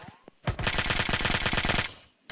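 Automatic gunfire in a shooter video game, one sustained rapid burst of closely spaced shots lasting over a second, loud and near, with a few faint clicks before it.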